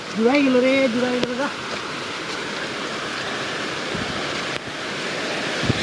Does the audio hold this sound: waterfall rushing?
yes